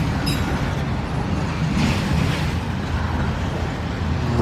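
A freight train with autorack cars rumbles past at steady volume, a continuous rolling roar with faint metallic squeal near the start, and no one speaking.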